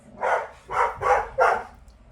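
A dog gives four short, close, moderately loud barks in an uneven rhythm during grooming at home, each bark clear and separated by brief pauses.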